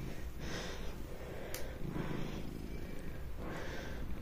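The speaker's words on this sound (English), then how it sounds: "It's like you're having a competition as to who can purr the loudest." Several cats purring close up in the evening, a loud, continuous rumbling purr with breathy swells on each inhale and exhale, repeating in a steady rhythm throughout.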